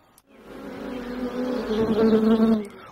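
A honeybee buzzes close by in a steady, droning hum that swells louder over a few seconds before cutting off abruptly, with no speech.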